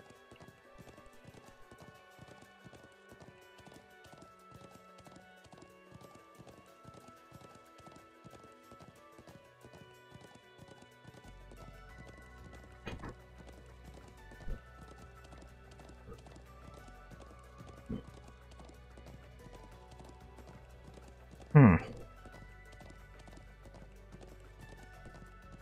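Horse hooves clip-clop in a quick galloping rhythm in the video game Trails of Cold Steel 2, steady and faint beneath game music, with a few louder sharp effects.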